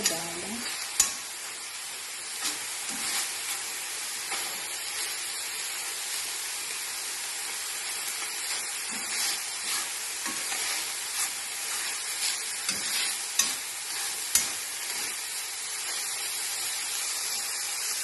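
Onions sizzle steadily in a hot pan, a constant frying hiss broken by occasional clicks and scrapes of stirring.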